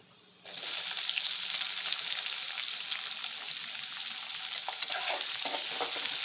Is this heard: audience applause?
no